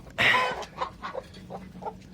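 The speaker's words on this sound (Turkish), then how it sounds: "Ha, burada da bu horozu bıraktım arkadaşlar." A red breeding rooster clucks in a short burst of loud squawking, followed by several softer, spaced clucks.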